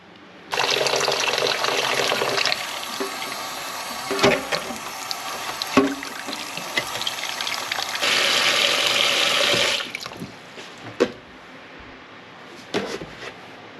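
Running tap water pours steadily over raw pork belly being washed in a sink, a close continuous splashing rush broken by a few knocks, then stopping to leave faint drips and handling sounds.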